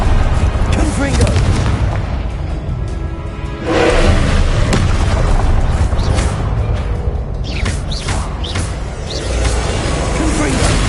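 Confringo spell explosions in Hogwarts Legacy combat: loud, continuous booming blasts rumble one after another, with a voice calling out spells over the din.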